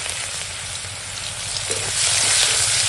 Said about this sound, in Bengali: ওই তেলেই এখন দিয়ে দেবো পেঁয়াজ